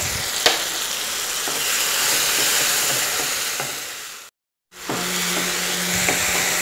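Chopped onion and tomato with turmeric sauté in a pan, a steady close sizzle with occasional scrapes and taps of stirring, briefly cut to silence before the frying hiss resumes with a low hum.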